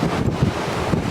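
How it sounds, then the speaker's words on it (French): Strong wind buffeting the microphone on a mountain hike beside a stone cairn, a steady loud roaring rush with gusty swells and no voices. "on est obligé de se protéger derrière une cairn tellement qu'il y a de vent"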